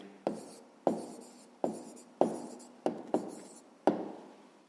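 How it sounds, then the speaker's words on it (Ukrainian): Pen writing an answer to a fifth-grade math problem on paper, seven short scratchy strokes at a fairly even pace, close and quiet with no talk. "Записуємо відповідь."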